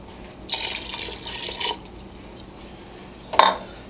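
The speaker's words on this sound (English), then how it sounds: "I'm going to use 1 more cup of water there." Water pours into a gumbo pot for about a second and a half, followed by a quiet pause and then a sharp metallic clink of a cup or utensil against the pot.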